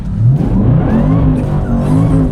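A Jaguar XFR's engine revs loud and close, a sustained throaty roar rising and falling in pitch with no talk over it.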